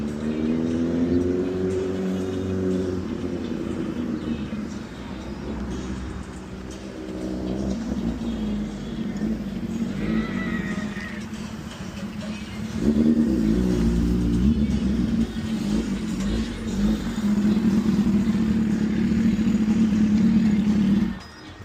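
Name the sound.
motorcycle arriving and revving at a car meet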